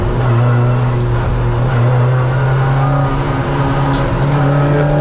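Touring race cars at Donington circuit, including a Honda Integra, roar loudly as they approach in a sustained, dense engine drone with strong steady tones and little variation.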